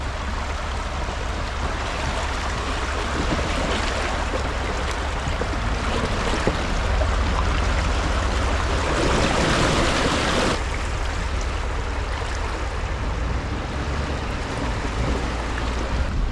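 Creek water rushing across a flooded crossing, a loud, constant roar of flowing water filling the whole stretch with no voices.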